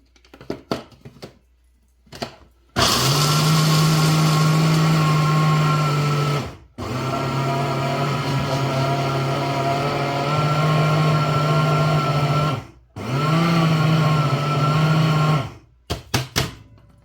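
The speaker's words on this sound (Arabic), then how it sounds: "غادي نطحن الاول هذا ديال اللوز غير مسلوق غنطحنو هو الاول" An electric grinder whirs loudly through blanched almonds in three long steady bursts, each several seconds, separated by brief pauses and short clattering starts, motor tone holding even and close.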